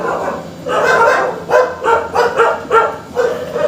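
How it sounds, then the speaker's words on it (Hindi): Dogs bark in a quick series of about half a dozen loud, close, evenly spaced yelps after a brief lead-in, with no talking. "कुत्ते भौंक रहे"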